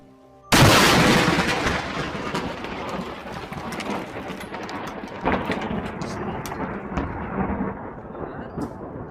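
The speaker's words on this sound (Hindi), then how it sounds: "अचानक वहां जोरदार कड़क के साथ बिजली गिरी" A sudden loud thunderclap from a lightning strike bursts in, then rumbles and crackles on with rain for several seconds, fading gradually.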